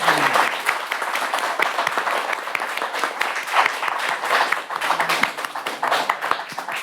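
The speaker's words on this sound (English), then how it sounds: "please join me in applauding and thanking the candidates" Sustained applause from an election forum audience thanking the candidates, many hands clapping at once in a continuous, lively patter that stays strong throughout.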